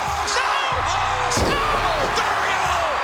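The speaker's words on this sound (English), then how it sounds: "Choke slams!" Wrestlers' chokeslam thuds onto the ring mat in a televised match between Undertaker, Kane and Triple H, a sharp impact around the middle cutting through constant roaring crowd noise with shouting.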